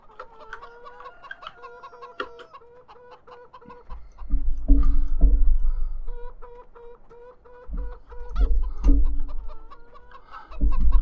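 Chickens in a farming video game cluck and chatter in repeated short bursts, with low thumping bumps rising in two louder stretches beneath the steady clucking; no one speaks.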